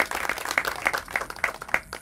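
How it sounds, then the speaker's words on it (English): Applause from an audience at a Father Kino celebration event in Tucson, a short burst of light scattered clapping with distinct individual claps over a couple of seconds. "Please give her a round of applause."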